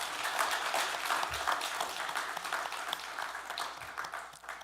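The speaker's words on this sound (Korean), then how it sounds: "박수로 환영하시겠습니다." A church congregation applauds in welcome during a Sunday worship service, a steady wash of many hands clapping at moderate distance, continuous and even throughout with no voices rising above it.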